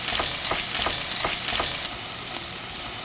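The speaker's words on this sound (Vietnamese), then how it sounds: "Sau đó cho thịt xá xíu vào xào." Char siu pork filling for steamed buns stir-fries in a pan with a loud, steady sizzle. A utensil scrapes and tosses the meat in a quick rhythm, close up, with no voices.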